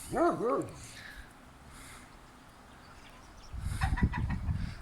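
A newborn puppy yelps in a quick burst of high whines at the start, among village chickens; later, low rustling and clucking from the hens fill the background.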